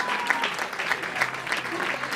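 Steady crowd applause at a provincial youth athletics awards ceremony, continuous moderate clapping from an audience that holds for a couple of seconds with a faint voice underneath.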